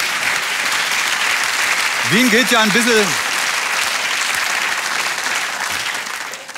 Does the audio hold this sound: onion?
no